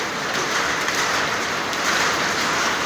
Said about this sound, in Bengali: দেখছেন কত বৃষ্টি